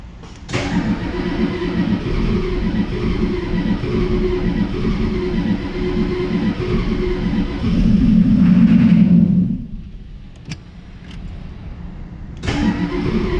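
Ford 6.9 IDI diesel engine, long left sitting and running on dirty fuel, cranks steadily and loudly for about nine seconds with a rhythmic starter churn, stops briefly, then begins cranking again.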